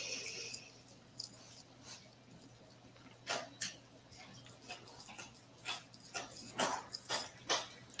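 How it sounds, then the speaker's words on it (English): An agitated dog barks and yelps repeatedly at a distance, faint sharp bursts growing more frequent toward the end over a low steady indoor hum. "Oh, my dog's already freaking out."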